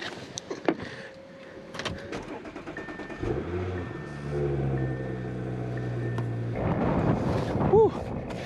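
2022 Audi S4 on a snowy, roughly freezing night cranking and starting: a few clicks and clunks, then the starter whirs and the engine catches into a rising idle rumble with a revving surge near the end, close by.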